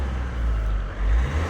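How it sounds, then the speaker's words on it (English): A diesel engine in an Iveco Daily 2.3 MK4 van revs hard and continuously at high RPM, a loud close-up drone with a small surge near the end and no voices. "Just give it some nice revs just to work the engine really."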